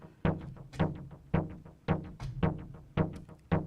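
Impulse Command synthesizer sequencer running on its own, stepped by LFO2: a steady pattern of sharp plucked notes about every half second, each decaying quickly, with no voices.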